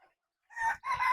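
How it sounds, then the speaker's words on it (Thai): Fighting rooster crowing nearby, two loud strained crow phrases separated by a brief break, with no talk over them. "เสียงม่วนตีปีกดังตัวนี้นะ"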